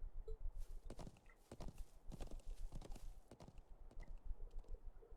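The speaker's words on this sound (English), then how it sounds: "Been a while, so I think I'll treat my horse to a longer ride." Horse hooves clip-clopping at a steady walking rhythm during a ride in the video game Trails of Cold Steel IV, fairly close and moderately loud, with faint music or ambience underneath.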